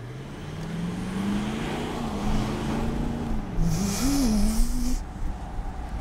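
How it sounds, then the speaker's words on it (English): The 2015 Range Rover Vogue SDV8 diesel V8 accelerating from inside the cabin, a low steady engine drone climbing gradually in pitch with a brief surge near the end, moderately loud under road noise. "Maybe we can hear this diesel V8 a little bit more"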